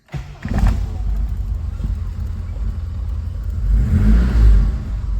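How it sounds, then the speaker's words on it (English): A 1977 Triumph Dolomite Sprint engine cranks and catches near the start, then settles into a steady, loud idle with a swell of revving toward the end, heard up close with no talk. "when I start the car, we should get oil pressure causing the oil light to go out"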